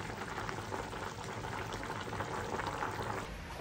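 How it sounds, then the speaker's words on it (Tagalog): A pot of Filipino tinola chicken soup bubbles at a steady rolling boil, close and constant, with no talk. "kumukulo-kulo na"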